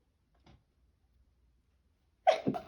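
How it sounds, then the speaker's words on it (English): A sudden sharp sneeze bursts out near the end after a quiet pause, close and fairly loud, with a faint breathy intake heard earlier. "I'm gonna sneeze"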